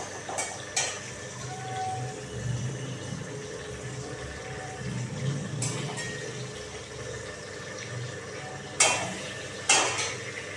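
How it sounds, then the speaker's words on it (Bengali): Fish fries in a pan with a steady background sizzle and low bubbling, broken by a few sharp metallic clinks and scrapes, close and without talk. "একটু মাছটাকে ভাজা দিয়েছি।"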